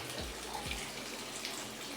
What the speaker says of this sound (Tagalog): bubuhusan ko na siya ng tubig.